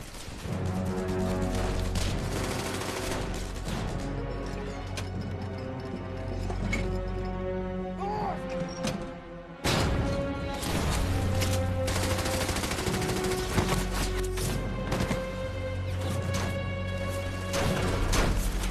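A battlefield din of German machine gun, mortar and sniper fire, with rapid bursts and heavy crashes over a constant roar that breaks off briefly midway, then resumes at full intensity.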